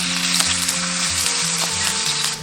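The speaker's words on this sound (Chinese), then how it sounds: "下入姜片，中小火慢煎。" Sliced ginger pan-frying in cooking oil on a hot iron griddle over medium-low heat, a loud, continuous close-up sizzle with crackling pops and no talk.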